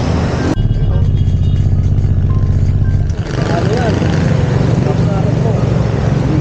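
A Yamaha NMAX V2 2022 scooter engine starts and runs with a steady low rumble near the listener, after its drive-side parts were replaced and the bike fell faulty. People talk over the sound.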